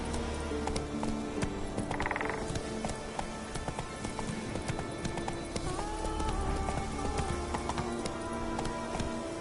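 Hooves of the horse Roach clip-clop steadily at a gallop in The Witcher 3, with creaking tack and mechanical game sounds layered over a continuous music bed, no talk.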